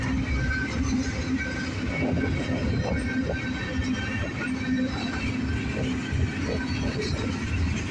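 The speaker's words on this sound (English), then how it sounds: "These are some big trains, Jack." A northbound CSX mixed manifest freight train with gondola cars rolls steadily past close by, a loud, continuous rumble and rail clatter holding for the whole stretch with no pauses and no talking.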